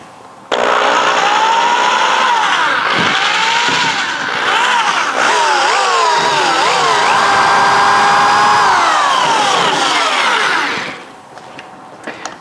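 A hole saw on a tube notcher cuts roll bar tubing set at 45 degrees, producing a loud, sustained metallic whine with rising and falling screeching tones for about ten seconds before spinning down.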